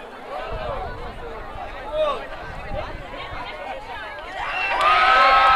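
Crowd of supporters at a football training match, cheering and shouting with a steady babble of many voices, swelling louder toward the end.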